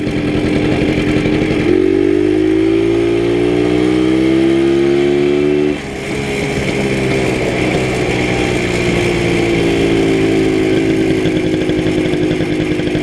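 A WSK 125 or Simson SR4 two-stroke motorcycle engine runs rough, revving up unevenly and dropping back toward a wavering idle, loud and close with no talking.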